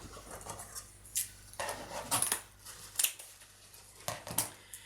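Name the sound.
scissors cutting tree topper bow ribbon streamer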